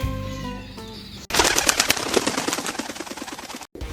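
Burst of close, loud wing flapping from red-and-white racing pigeons, rapid repeated beats starting abruptly after a quiet lead-in with a faint tone, then continuing busily with a brief gap near the end.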